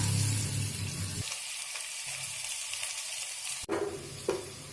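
Two large onions frying in oil with cinnamon, cloves, cardamom and kalpasi, a steady close hiss that dips briefly, with a sharp stirring clack and a few scrapes near the end, no talking.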